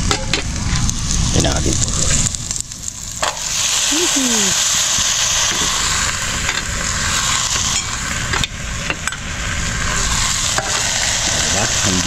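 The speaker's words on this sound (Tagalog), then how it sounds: "At igigisa na rin natin together with karne." Chicken and meat sauté in a hot pan with onion and garlic for adobong manok, a loud continuous sizzle with occasional stirring clinks, while a voice talks over it briefly.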